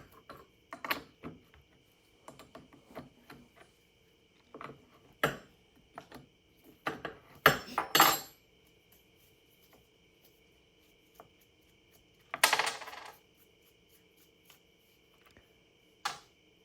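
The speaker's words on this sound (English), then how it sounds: "There's 2 bolts. Take those off using your combi spanner." Sprocket cover bolts on a STIHL MS210 chainsaw being undone with a combi spanner: scattered close metallic ticks, clicks and scrapes, with a couple of brief louder rattling bursts, no talk.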